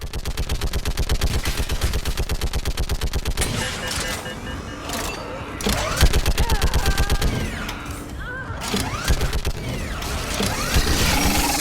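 Loud, sustained automatic gunfire in a video game battle, with rapid bursts that continue almost without pause and only brief gaps, plus faint voices in the mix.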